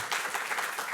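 Church congregation applauding during a Korean-language service, a brief burst of many hands clapping in a dense, even patter, moderately near and alone without talk.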